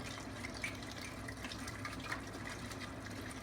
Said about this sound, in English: as I'm adding this liquid, you see me stirring, I'm just scraping up the brown bits that are in the bottom of the pan